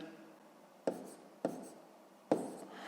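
Pen writing the number 112 on paper while working a long division, three short scratchy strokes separated by pauses, close and quiet.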